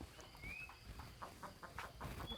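Chickens cluck and a rooster calls amid chirping birds on a morning farm, fairly faint and scattered, with a thin whistling bird call above.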